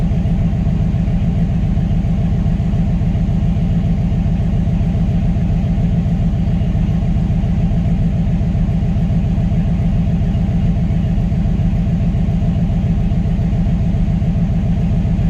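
A Chevrolet S10 engine fitted with a Holley EFI Sniper idles close by, a loud, steady rhythmic rumble that holds even throughout with no voices.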